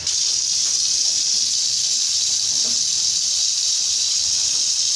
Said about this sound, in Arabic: وهنفتح ميه علشان نشوف مع بعض الميول